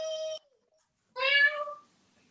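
Two short meows, a flat one then a rising whiny one, voiced by a person imitating a cat, quiet with a gap between.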